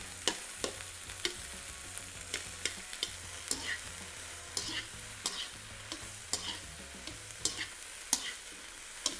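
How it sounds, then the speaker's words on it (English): Vegetables for a steak stir fry brown in a pan with a steady moderate sizzle, punctuated by regular sharp clicks and scrapes of a stirring utensil, with no voices. "we're gonna add all of our vegetables, except for the green onions, into the pan, and we're gonna brown them"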